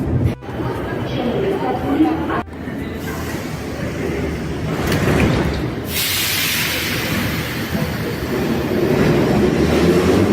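A train in the deep Tbilisi metro in Georgia rumbles loudly and continuously with clattering wheels and rising roar, while people chatter nearby over the noise.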